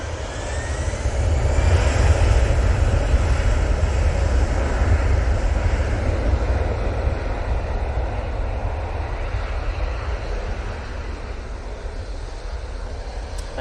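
EasyJet airliner taking off at Manchester Airport, bound for Geneva: a loud, sustained jet engine roar with broad rumble that swells early and then slowly eases as the plane climbs away, with no talking.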